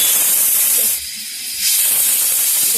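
A loud, continuous hiss of steam escaping a pressure cooker of moong bean usal that briefly drops off, then rushes back at full strength.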